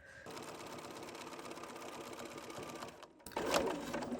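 A sewing machine fitted with a walking foot stitches a woven potholder, running in a steady fast whir, then stopping briefly before a short clattering burst as it restarts.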